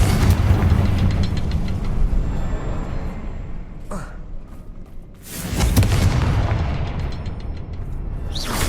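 Booming Confringo fire-spell blasts in Hogwarts Legacy, one loud rumble fading out, then a brief lull before a second heavy burst swells up and rolls on.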